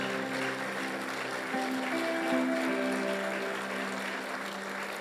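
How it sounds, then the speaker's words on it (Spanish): A church congregation applauds at a Spanish-language service, soft, distant clapping under sustained musical tones, steady and fairly quiet throughout. "¿Qué tal si damos un aplauso a nuestro Dios?"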